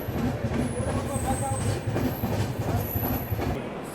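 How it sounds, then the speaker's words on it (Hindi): The Ahmedabad–Mumbai Double Decker Express rolls along with a loud, steady rail rumble, faint rhythmic wheel clatter and thin high wheel squeals rising and fading above the roar. "बाकी ये रही अपनी डबल डेकर एक्सप्रेस, इंडिया की फास्टेस्ट है"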